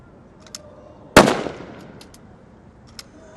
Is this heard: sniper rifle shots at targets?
yes